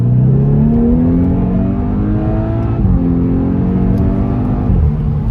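A Volkswagen Scirocco R (265 hp) engine revs hard from inside the cabin, its pitch dropping sharply at each quick DSG gearbox shift, twice in a few seconds.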